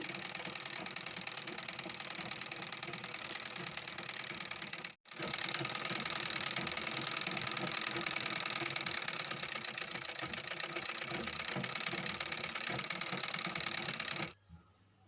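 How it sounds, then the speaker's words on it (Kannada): A sewing machine stitches a reversed old chudidar top, doubling the seam in a loud, steady mechanical whir that pauses briefly once, then runs on before stopping near the end. "ಈಗ ನಾನು ಉಲ್ಟಾ ಮಾಡಿ ಎರಡೆರಡು ಹೊಲಿಗೆ ಹಾಕ್ಕೊಳ್ತಾ ಇದ್ದೀನಿ"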